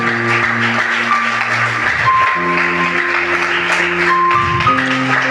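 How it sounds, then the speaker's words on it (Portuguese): Congregation clapping during a Portuguese-language church doctrine service, a steady wash of applause running through the whole clip beneath loud sustained keyboard or organ chords. "Aplauda ao Senhor Jesus"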